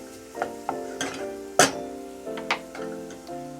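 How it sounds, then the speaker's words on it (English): Onions, celery and mushrooms sizzle in butter in a pan while being stirred. A steady soft frying hiss runs throughout, broken by several sharp utensil clicks and scrapes at an uneven rhythm, close up with no talking. "Give it a stir and let it cook for about 5 or 6 minutes to kind of soften everything"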